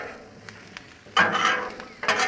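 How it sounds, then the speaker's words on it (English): Fried potatoes and sausage are stirred on a Blackstone griddle, with a low sizzle under scraping and stirring strokes that grow louder near the end. "Take it now and just stir it"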